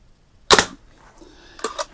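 A Daisy Red Ryder 499B air rifle fires one crisp, snapping shot at a target, followed a moment later by a couple of faint, quick ticks.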